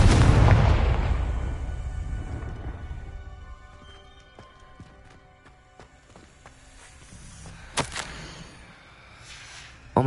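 A Confringo spell explosion in Hogwarts Legacy: a loud, booming blast at the start that rumbles and fades over several seconds into quieter ringing tones, followed by a couple of faint later pops.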